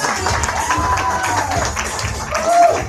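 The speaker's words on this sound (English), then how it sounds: "Give them a round of applause" A crowd at an evening motivational meeting gives a round of applause, a moderate clapping wash mixed with murmuring and voices, swelling slightly toward the end.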